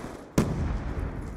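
A frag grenade going off in Black Ops 2: one sudden sharp blast followed by a rumbling tail that lingers briefly, with nobody talking.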